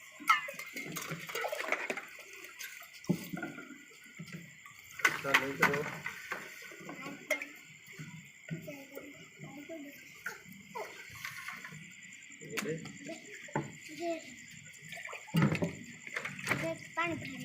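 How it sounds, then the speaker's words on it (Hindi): Cold water being poured and filled into containers while preparing poultry vaccine, with splashing and sloshing bursts under ongoing nearby speech. "ये हम अब पानी भर रहे हैं, बिल्कुल ठंडा ठार पानी है।"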